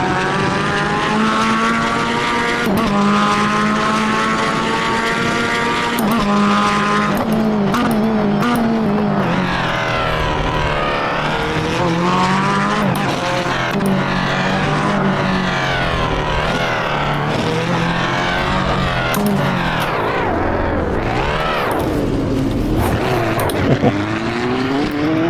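GTE race car engine in Automobilista 2 on an American circuit, a loud continuous high-revving roar with rising and falling pitch through gear changes and throttle lifts, heard from outside the car without talk.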